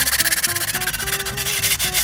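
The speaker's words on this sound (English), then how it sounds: "We'll start by sanding off the top edges" Steady back-and-forth sanding strokes rasp against the top edges of plastic bowls, rhythmic and close, with a faint tonal hum running underneath.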